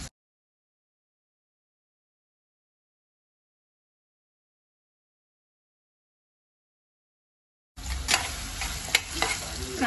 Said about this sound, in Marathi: कांदा लसूण मसाला पूर्ण असा बारीक करून घ्यायचा, तेलामध्ये व्यवस्थित फ्राय करून घ्यायचा